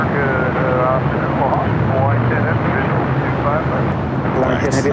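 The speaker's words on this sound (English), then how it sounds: "Iberia, flight coming in from Madrid, an A330-200" An Iberia Airbus A330-200 airliner arriving from Madrid at LAX gives a loud, steady engine rumble, with a person talking over it throughout.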